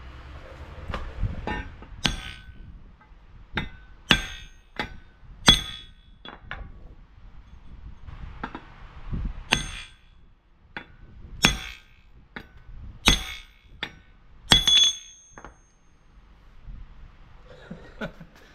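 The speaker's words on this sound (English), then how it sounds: "I think we're gonna have to go back to the hammer." Repeated sharp metallic clangs from hammer blows on the upper control arm suspension part of a 1969 Plymouth Fury III, irregular and loud, with brief pauses between bursts of strikes.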